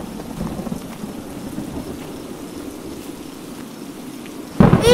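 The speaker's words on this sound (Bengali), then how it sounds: "এই ঝড় বৃষ্টিতে যদি আমাদের বাড়ি ভেঙে যায়, তখন আমরা কি করব?" Cartoon thunderstorm with heavy rain: a steady hiss of pouring rain, then a sudden loud thunder crack bursts in near the end, with no voices.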